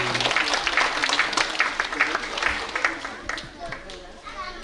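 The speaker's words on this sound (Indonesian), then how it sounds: "Tepuk tangan buat Jihan juga." Audience clapping at an evening stargazing picnic, a moderate burst of many hands that fades toward the end, mixed with voices and crowd chatter.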